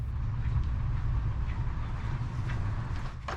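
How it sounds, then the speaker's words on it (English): A steady low rumble of a Turkish passenger train rolling slowly into a station, heavy and continuous, with faint squeaks and rattles near the end as it settles. "Around 25 minutes into our journey, we stop at our first station."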